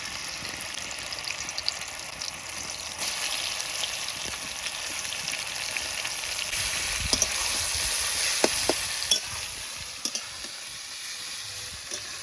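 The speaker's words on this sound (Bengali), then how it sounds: "সেদ্ধ করে রাখা চালতাগুলো এবার তেলের উপর ছেড়ে দেবো" Boiled elephant apple (chalta) pieces sizzle and fry in about a cup of hot oil with five-spice seeds in a wok, a steady loud hiss that swells from the third second on, with faint clinks and stirs near the end.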